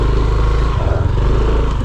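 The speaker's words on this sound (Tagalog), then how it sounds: "Ngayon ko na lang ulit nagamit itong motor ko" A motorcycle engine runs close and loud, a steady rumbling drone with a slight throbbing pulse and no voices.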